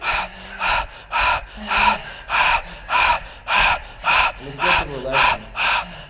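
A person imitates a dog's panting with rapid, rhythmic breathy huffs, about ten regular bursts in a steady in-and-out pattern, close and clear, with no other sounds.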